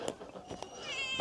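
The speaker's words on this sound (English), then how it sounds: "What are you whining about, cat?" A cat gives a short whining meow, close and fairly quiet, with a couple of soft clicks just before it.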